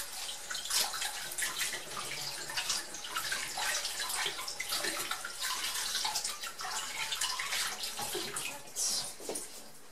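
Hands being washed under a running tap, with a steady broadband splash of water filling the whole stretch without a break, fairly loud and close, and no talking over it.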